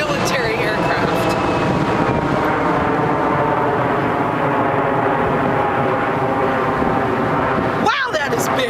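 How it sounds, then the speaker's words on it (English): A giant military airplane passes overhead as a loud, steady engine roar that fills the whole stretch and dominates throughout, with a person talking over it. "I think that is the most giant airplane I have ever seen. That's got to be a military aircraft."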